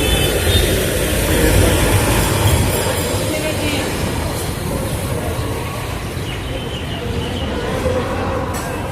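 A loud, steady engine roar of a motorcycle passing close by, swelling early and then holding as a broad rumble throughout.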